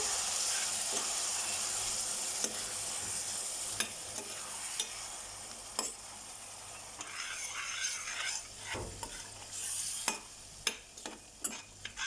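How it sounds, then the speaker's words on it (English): Dry fish chutney with tomatoes cooking in a pan is stirred, bringing a steady hiss of frying and repeated sharp scrapes and clinks of the spoon that grow busier toward the end. "Just give it a stir."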